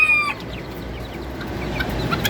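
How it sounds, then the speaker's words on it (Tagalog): A small black bantam chick chirps in a few brief, high peeps, loudest at the start and then scattered over a steady low background hum. "yung isa sa pinamimigay kong sisiyo na bantam"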